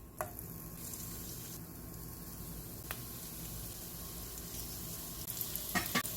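Squash sizzling steadily in a little oil in a pan over medium heat, a soft continuous frying hiss with a few faint clicks and stirring sounds near the end.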